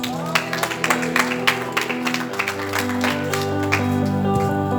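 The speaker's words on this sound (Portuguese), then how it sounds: "Aplauda Jesus." A church congregation applauds over sustained music, with rhythmic claps at a steady beat that blend into a dense, moderately loud wash with held organ or keyboard tones underneath.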